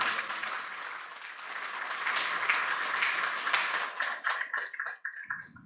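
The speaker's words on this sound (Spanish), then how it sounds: "para el cual solicito también un fuerte aplauso y la mano" Applause from an audience at a Mexican electoral tribunal event swells as a dense, steady wash of many clapping hands, then thins into scattered separate claps near the end.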